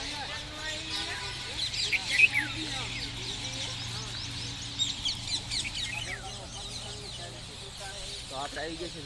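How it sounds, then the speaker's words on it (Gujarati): Many parrots chatter and squawk in a busy, overlapping chorus at moderate distance, with a person talking over them now and then. "બધા પોપટ બેઠા છે જોઈ"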